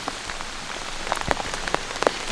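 Rain from a small passing storm patters on surfaces outdoors at a forest bear-hunting stand, a steady soft wash with scattered sharper drops and taps, fairly close and without voices.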